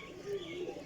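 Pigeon in a breeder's loft, one brief low coo that swells and fades within a second over a faint background hum.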